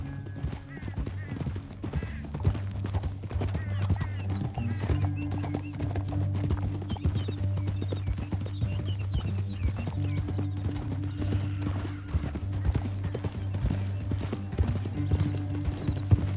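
Rapid hoofbeats of galloping horses in the video game Red Dead Redemption 2 pound steadily throughout, loud and close, with a low rumbling drone underneath and occasional voices.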